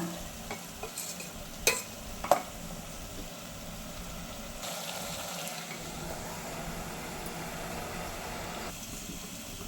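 Vegetables frying in oil in a pan while cooking ghee rice and curry at home, a quiet steady sizzle with a couple of brief louder clinks or stirs early on, no talking.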